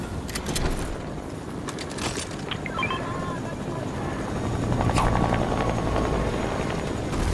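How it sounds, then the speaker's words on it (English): A helicopter in the Fortnite video game chops and whirs steadily nearby, its rotor noise continuous and fairly loud, with voices talking over it. "Yo, your helicopter!"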